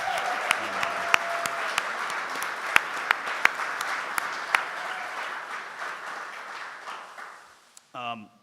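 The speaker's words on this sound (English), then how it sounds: "I think a round of applause is in order for the women's basketball team in the year they had" Audience applause fills a press-conference room at a university basketball coach's introduction, a steady wash of clapping with sharp individual claps standing out, fading toward the end before a brief voice.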